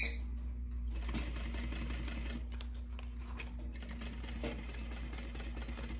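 A sewing machine stitching slowly around a curve on a crossbody bag, its motor whirring steadily with a fast rhythmic needle clatter, close and continuous throughout.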